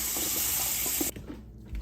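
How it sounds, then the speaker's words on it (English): Water gushing steadily from a tap into a pan for about a second, then cutting off, followed by faint clinks and a quiet low thump, while making macaroni salad. "put some water back on top of it"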